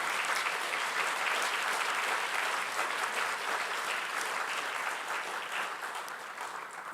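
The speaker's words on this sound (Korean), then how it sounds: "박수로 하나님께 영광을 드립시다" Sustained applause from a church congregation at a designation ceremony, a dense even patter of clapping lasting several seconds and tapering slightly toward the end.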